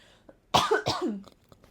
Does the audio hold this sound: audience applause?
no